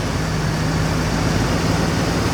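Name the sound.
40-year-old car engine idling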